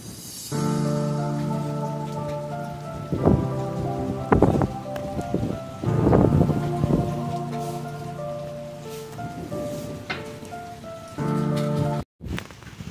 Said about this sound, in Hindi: इतना लंबा वाइंड स्ट्रोम, इतना गंदा